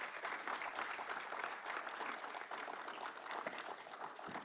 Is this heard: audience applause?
yes